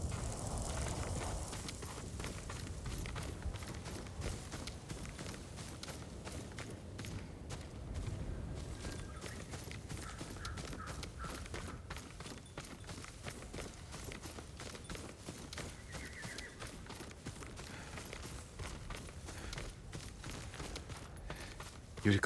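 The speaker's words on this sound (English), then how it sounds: "Yuriko's horse" Horse hooves clip-clop steadily throughout, heard from Yuriko's horse in Ghost of Tsushima, moderately loud over a dense low rumble of ambient game sound with no talking.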